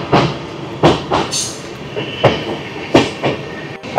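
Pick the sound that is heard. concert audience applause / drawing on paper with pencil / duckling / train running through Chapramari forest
train running through Chapramari forest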